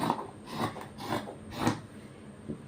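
Scissors cutting fabric for a nighty in a tailoring lesson, a few soft rasping snips spaced about half a second apart, faint and close with no talking.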